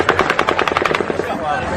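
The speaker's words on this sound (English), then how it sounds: "the 8th volley of automatic gunfire begins" Rapid volley of automatic gunfire, a burst of roughly ten sharp evenly spaced shots that then trails off into echoing rumble, loud and close amid a chaotic combat scene with people shouting.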